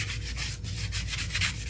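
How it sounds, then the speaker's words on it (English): A small sanding block rubs back and forth along the edges of a scrap 4x4 wood block, making rhythmic raspy strokes close up with no talking. "So I'm just going to take a little sanding block"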